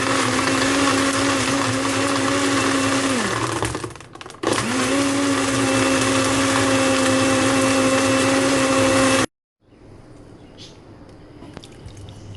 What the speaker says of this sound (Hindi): अब इसको हम जो है ब्लेंड करेंगे